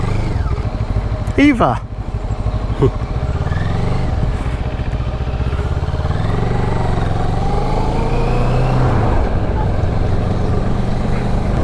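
A Moto Morini Seiemmezzo (6½) motorcycle on a ride, its smooth engine droning steadily and close, rising and falling with throttle changes, with wind noise and a rider talking briefly near the start.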